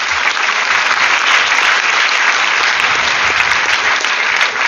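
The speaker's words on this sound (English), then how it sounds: "So can we have a big round of applause for Gracina also?" An audience gives a topper at a student awards event sustained, dense applause, loud and steady from start to finish.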